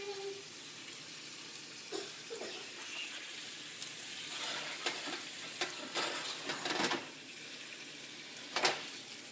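Shrimp and asparagus sizzle quietly in an easy-clean pan, a soft steady frying hiss broken by occasional stirring scrapes and louder pops.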